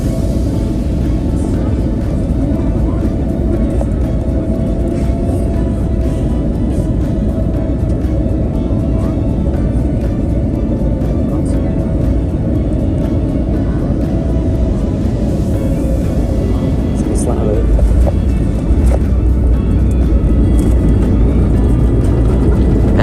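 Steady low rumble fills the cabin of a Jetstar A321neo airliner as it lands at Perth after a bumpy arrival, with a heavier thump and roar near the end.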